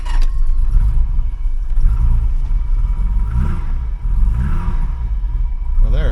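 A 1985 BMW 635CSI engine, fresh from a new ignition coil, turns over and settles into a steady, close rumbling idle with a few brief rises in revs, while someone talks over it.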